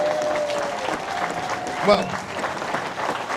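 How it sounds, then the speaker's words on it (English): A modest crowd at a by-election rally in Clacton gives thin, scattered clapping that continues under a voice addressing them. "I know that's not a very big clap."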